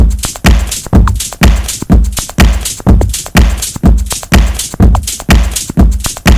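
Dry snare drums with no reverb in an electronic song built from orange samples, hitting in a steady fast pattern over a thumping low beat, loud and dense with no pauses.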